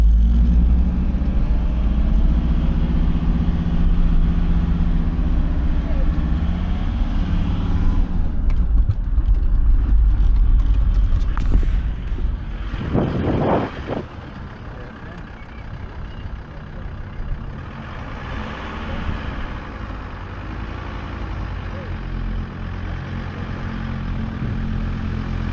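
A car engine labours up a steep hill in first gear, a steady low drone filling the cabin with a brief louder rattle midway, no talking over it.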